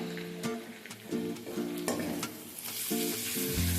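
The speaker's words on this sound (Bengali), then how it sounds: "রসুনটা ভেজে নেওয়া হয়ে গেলে এর মধ্যে আমি টমেটো কুচি অ্যাড করে দেবো।" Chopped tomatoes sizzling in a pan of fried garlic with salt added, a steady close frying hiss broken by repeated stirring scrapes and knocks.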